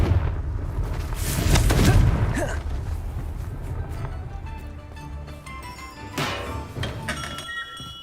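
Confringo blasting spells going off in Hogwarts Legacy gameplay, booming explosive bursts with clinking debris, several heavy impacts spread across the clip over a layered game soundscape.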